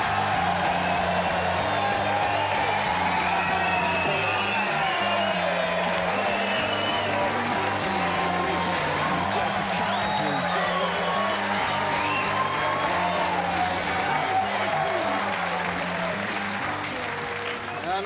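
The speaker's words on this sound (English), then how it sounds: "keep the applause coming" Studio audience at an Australian football TV show in Forster applauds and cheers loudly and steadily throughout, with a host's voice speaking over the crowd.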